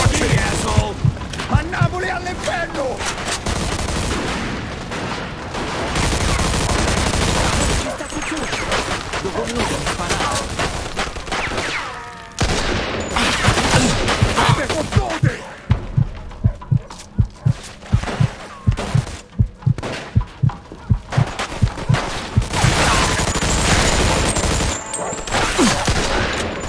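A shootout in the video game Mafia II: loud, repeated gunfire in bursts and dense volleys, with booming shots, voices shouting over it, and a burst of rapid evenly spaced shots near the end.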